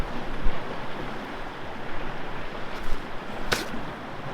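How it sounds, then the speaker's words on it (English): Sea waves wash in steadily beside a cliff-edge campsite on a solo paddleboard trip, a close, continuous surf roar with small bursts and one sharp slap near the end. "Nothing but everything. Sea, waves."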